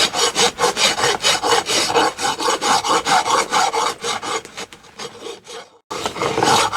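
Steady back-and-forth rasping of sandpaper on a wooden tomahawk handle, a loud, even rhythm of strokes that slows and thins near the end, breaks off briefly and then resumes.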